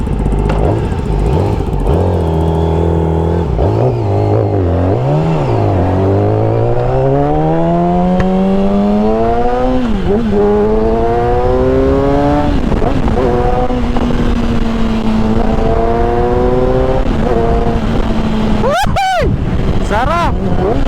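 A Yamaha R6 sport bike engine revs up through climbing gears on a night test ride, its pitch sweeping steadily higher and dipping between shifts, loud and close from start to finish.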